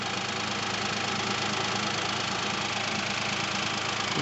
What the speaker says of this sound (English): This is what your 3-cylinder engine sounds like.